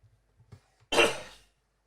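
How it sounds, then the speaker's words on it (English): A single sharp cough close to the microphone, preceded by a few faint breaths and small noises. "Sorry, I had to cough."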